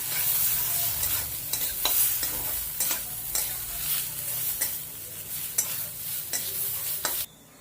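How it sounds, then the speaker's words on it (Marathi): Chopped tomatoes and onions roast together in a pan for a spicy Maharashtrian misal masala, a constant close sizzle punctuated by regular scraping stirs, without any voices. "आता आपण टोमॅटो पण कांद्याबरोबर भाजून घेऊया"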